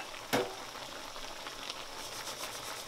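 Mushrooms dropped into a hot stew pot for Tuscan beef stew, giving one sharp sizzling burst that settles into a steady, close frying hiss with soft crackles.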